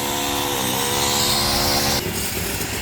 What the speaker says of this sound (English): Apologize for the construction noises.